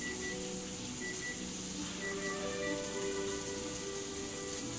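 A kitchen timer beeps in short, evenly spaced bursts while steak and mashed potatoes are being cooked, the faint beeps sitting under a steady rain-like kitchen hiss with no talking.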